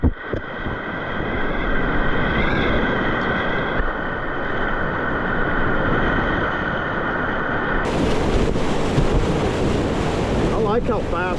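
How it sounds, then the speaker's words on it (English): Waves surge and splash around a Waka Stoke whitewater kayak in a continuous, loud roar of rushing water. Gusting wind batters the microphone throughout. "Very wet, splashing you in the face on these whole wave combos."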